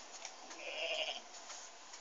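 A goat gives one faint, nasal bleat around the middle of the clip over a steady hiss of background noise, with no voices heard.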